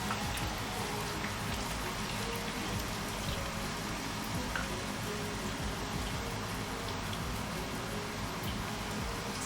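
Light rain falls steadily, a soft continuous patter of drops with faint ticks throughout and no voices.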